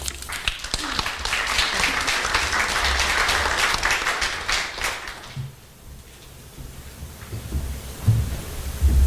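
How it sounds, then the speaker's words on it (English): An audience at a TEDx Greenville talk gives a speaker a sustained round of applause, loud and steady for about five seconds before fading away into quiet room tone. "Can we clap again?"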